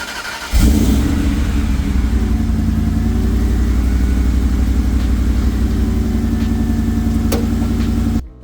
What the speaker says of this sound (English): So let's start up the truck and I'll kind of show you what I'm talking about.